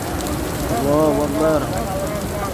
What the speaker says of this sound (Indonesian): Hujan deras di kota Nabi.